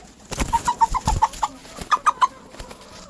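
A hen in a backyard chicken coop gives a quick run of short clucks, pauses, then adds a few more, with soft rustles and flutters of her wings in between, close by.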